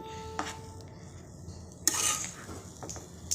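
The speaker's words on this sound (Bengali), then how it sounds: "দু তিন মিনিট সময় নিয়ে আমি নেড়ে চেড়ে পুরটা বানিয়ে নেব" Scraping and stirring of a jaggery and grated coconut filling in a metal pan, with soft rubbing strokes and a few sharper clinks, moderately quiet and close.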